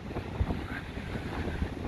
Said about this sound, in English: so I thought it is windy